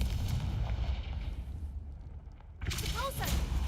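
A Confringo blasting spell in the Hogwarts Legacy video game erupts as loud, rumbling booming bursts with a brief lull midway, followed by a renewed blast carrying a bright, whistling magical whoosh.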